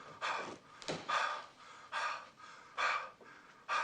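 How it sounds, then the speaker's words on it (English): Heavy, rhythmic breathing, slow drawn-out breaths in and out about once a second, close and unhurried, with no talking. "I shall commence my heavy breathing"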